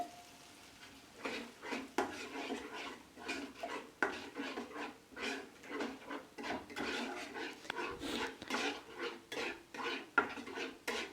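A utensil stirs matar paneer curry in a metal pan after water has been added, a repeated rhythmic scraping and clinking against the pan that continues for about ten seconds without talk.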